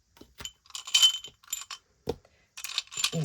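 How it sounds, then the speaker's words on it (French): A die clatters and rattles on a hard surface in several quick bursts of small clicks and knocks, close and fairly sharp, with brief pauses between tumbles. "On va lancer le dé pour l'enveloppe noire."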